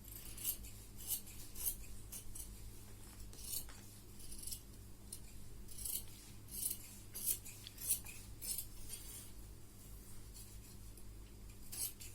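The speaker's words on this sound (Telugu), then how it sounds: "సో ఇక్కడ మేము ఫ్రంట్ పార్ట్ కట్ చేస్తున్నాము" Scissors cut through the front panel of blouse fabric in a long series of close, repeated crisp snips and rustles, quiet and steady with no voices.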